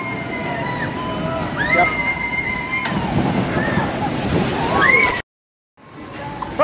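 Water sloshing and splashing around a boat on a wet amusement park water ride, a steady rushing wash throughout with people talking over it and bright whistles or squeals, cutting briefly to silence near the end.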